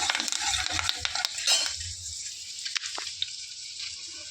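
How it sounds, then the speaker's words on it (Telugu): Fenugreek seeds and curry leaves fry in a pan after fried eggs are set aside, with soft crackling and sizzle under repeated scraping clinks of a spoon stirring, close and fairly quiet. "కొద్దిగా మెంతులు వేసుకోండి కొద్దిగా కరివేపాకు మెంతులు కాస్త తేగనియండి"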